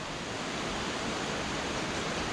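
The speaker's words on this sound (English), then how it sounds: "Many waterfalls everywhere." Waterfalls on a tropical jungle climb in Thailand at the end of the rainy season roar as a dense, unbroken rush of water. The sound is loud and close, with no talk.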